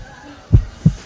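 Two deep, thumping heartbeat pulses sound about a third of a second apart, a stylized heartbeat effect set against a quiet background.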